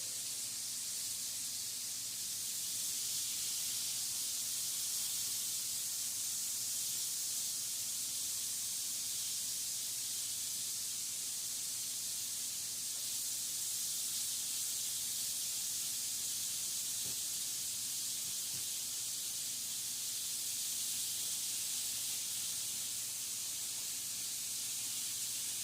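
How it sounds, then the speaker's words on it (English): Thick-cut bacon sizzles steadily in a hot pan, a dense, continuous hiss that holds level for the whole stretch with no voices over it. "Laying the bacon down"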